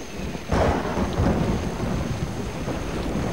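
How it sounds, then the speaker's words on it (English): A cartoon thunderstorm: a sharp thunder crack breaks over a steady hiss of falling rain, followed by lower rumbling as the downpour continues evenly. "Uh-oh, looks like rain."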